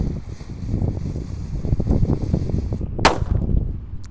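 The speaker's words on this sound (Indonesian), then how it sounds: "di sini ada mercon telur burung" A bird egg firecracker bursts with one sharp, loud crack outdoors, set against steady wind noise and background rumble.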